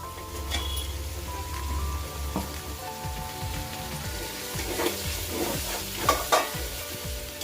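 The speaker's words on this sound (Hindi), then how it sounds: "अब इसमें हम टोमेटो ऐड कर रहे हैं।" Tomatoes being stirred in a frying pan while cooking South Indian chicken dum biryani, a steady sizzle with scraping spoon strokes and a few louder clinks near the end, close and without talk.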